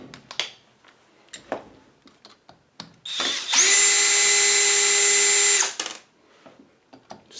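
Power drill backing screws out of the motor of a Royal full-metal upright vacuum during a teardown, one loud sustained whine of about two seconds, close up, framed by scattered clicks and handling taps before and after.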